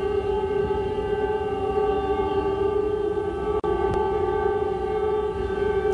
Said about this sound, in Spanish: Mientras el sonido de la sirena se extiende por el país, todos los israelíes guardan silencio.